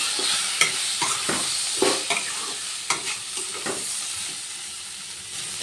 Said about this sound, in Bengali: এরপর ভালো করে আমি মশলাটা কষিয়ে নেব।